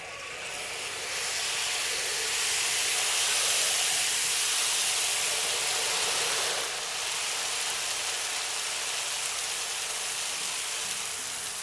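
Chicken wings coated in batter sizzle in hot frying oil, a loud, steady hiss that swells after the first second and holds with little change, with no talk.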